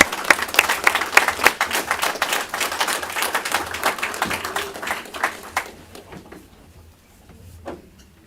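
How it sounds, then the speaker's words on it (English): Crowd applause for a 10U youth cheer group at a city event in Villa Rica, dense and steady clapping that fades out after about six seconds, leaving a few scattered claps. "give them another round of applause"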